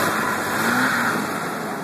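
A 1994 Jeep Grand Cherokee straight-six with 258k miles revving, a loud, close, broadband engine roar that holds steady for about two seconds.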